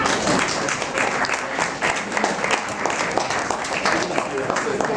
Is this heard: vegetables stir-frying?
no